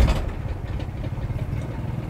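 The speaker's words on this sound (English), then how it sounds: "So the generator is mounted under here." A generator mounted under a Solis 59PX camper van runs with a steady low engine drone, close and continuous, with a slight thump as it settles at the start.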